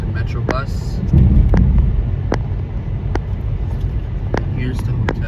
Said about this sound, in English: Here's the Washington Metro bus.